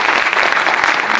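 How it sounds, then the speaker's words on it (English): Audience applause at a museum space and science festival, dense and loud crowd clapping heard close and continuous throughout the short stretch, with no talking over it. "Let's give Mike a round of applause"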